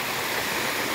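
Floodwater rushes steadily and loudly in a dense, unbroken roar, heard alone for a brief moment.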